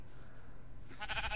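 A sheep bleats briefly in the Feed The Beast modded Minecraft game, a short wavering bleat rising near the end over low background hum.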